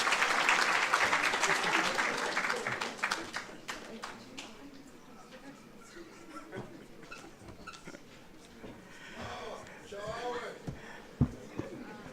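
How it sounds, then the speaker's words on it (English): An audience at a university International Mother Language Day celebration applauds loudly, with the clapping fading over several seconds into scattered room noise and faint voices. "Let's give him a round of applause,"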